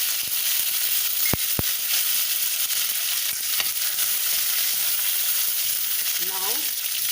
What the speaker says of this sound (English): Now add the red chili and the curry leaf.